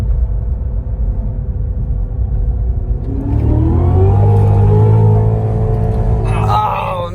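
A car engine stuck in second gear, likely a drag race car, rises from a low rumble into a loud sustained rev with climbing pitch that holds and then fades, heard near.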